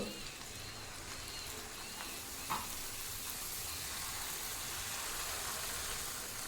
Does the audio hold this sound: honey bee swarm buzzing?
no